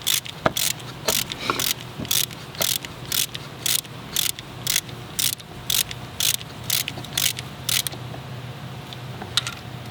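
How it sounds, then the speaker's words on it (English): A hand ratchet tightens the screws on a new timing chain tensioner of an overheating VW engine, clicking in quick bursts of pawl ticks, repeated steadily and close up over several strokes. "I'm going to tighten these screws down."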